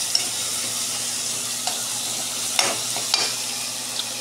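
Milkfish, or bangus, fries in a pan with a constant close hiss, broken by a few light scrapes and taps of a utensil, and no voices.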